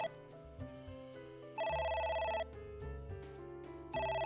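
A telephone rings in the video game AI: The Somnium Files, a bright electronic trill repeating in loud bursts over a steady game music bed, with no voices.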